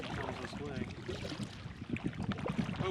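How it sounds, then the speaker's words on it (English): Boat paddles splash and churn lake water steadily and close by near a boat launch at Moraine State Park, with a rough, noisy wash throughout; a voice is faintly heard among the splashes. "Hopefully you can hear me over those paddles."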